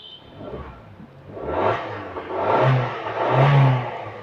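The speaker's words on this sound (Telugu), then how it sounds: "వెహికల్ స్టార్ట్ చేస్తున్నా. చాలా స్మూత్ ఉందండి ఇంజిన్ మాత్రం." A 2018 Maruti Swift petrol engine starts and revs up smoothly, rising in two swells of engine roar from a low idle, heard up close with no talking.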